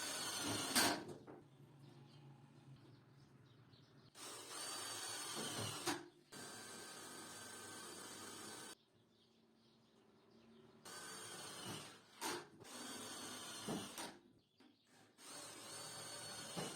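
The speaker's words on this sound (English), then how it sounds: "We fasten the ducts to the body of the electrical panel using self-tapping screws." A power tool drives self-tapping screws into the body of an electrical panel, several separate whirring bursts of a few seconds each with quiet gaps between, close but fairly soft.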